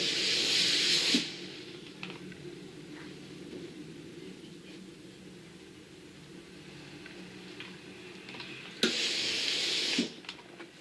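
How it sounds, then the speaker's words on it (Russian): A steam iron presses a skirt lining, opening and closing with loud steam hisses at the start and again near the end, separated by quieter pressing and handling sounds in a small room. "Припуск заправляем, подкладочку расправляем. И все хорошенечко сутюживаем."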